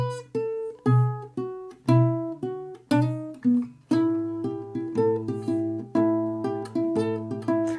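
Acoustic blues guitar played fingerstyle, a steady alternating bass under plucked treble notes and chords, close and clear with no talking.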